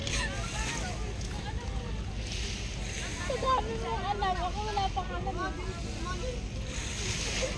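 Wind and lapping seaside waves fill the air along the Bauan boulevard shore in Batangas, where small boats are moored, with people chatting casually over the steady outdoor wash.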